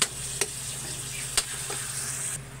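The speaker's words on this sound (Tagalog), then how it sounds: "At haluin natin ulit." Sautéed chayote with ground meat, salt and pepper powder sizzling steadily in a pan while being stirred, with a few sharp clicks of a utensil against the pan and no talk.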